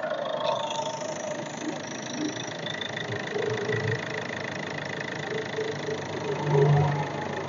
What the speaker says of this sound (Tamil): ஒரு பெட்ரோல் வண்டி மாதிரி தாங்க பார்த்தீங்கன்னா சவுண்ட் இருக்கு உங்களுக்கு இந்த வண்டியில்.